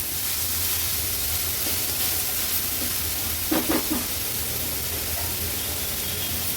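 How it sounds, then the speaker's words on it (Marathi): Onions frying in a pan with crushed ginger, garlic and chilli for a Maharashtrian veg thali, a steady bright sizzle and hiss running throughout with a few brief stirring scrapes midway. "आता कांदा व्यवस्थित आपल्याला शिजवून घ्यायचा आहे."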